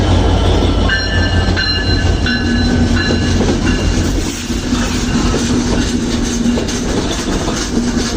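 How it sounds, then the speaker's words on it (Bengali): The Chitra Express, running from Khulna to Dhaka, pulls into a station with a loud, continuous rumble. High wheel squeals and clattering railcars can be heard up close. "এই যে ট্রেন চলে এসেছে, এটা ট্রেনের ইঞ্জিন।"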